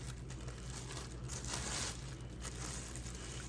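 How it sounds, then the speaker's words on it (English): A plastic bag is peeled off a hardened paraffin wax glove on a hand, giving soft continuous crinkling and rustling, close and quiet, with no speech. "So let's take our bag off."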